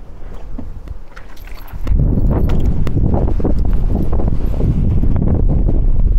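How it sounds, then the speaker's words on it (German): Strong wind roars and buffets the microphone, growing louder after a couple of seconds and staying steady, with faint thumps underneath. "wir kriegen den vollen Wind ab"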